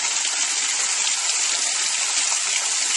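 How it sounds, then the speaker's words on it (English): A waterfall in a water garden pours in a steady, dense rush of splashing water, continuous and fairly loud, with no voices over it. "It's a waterfall. And a water garden."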